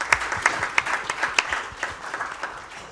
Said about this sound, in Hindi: इनके लिए तालियां ज़रूर।